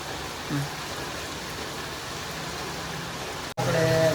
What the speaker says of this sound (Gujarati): બંધ થવાનું નામ જ નથી લેતો વરસાદ એક જ ધારો હવારનો